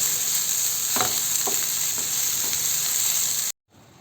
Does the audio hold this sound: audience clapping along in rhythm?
no